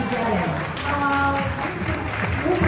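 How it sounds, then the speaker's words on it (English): An audience applauds the third-place winner of the International Watercolor Battle at a watercolor society event, a steady wash of clapping running the whole time beneath a speaking voice. "round of applause"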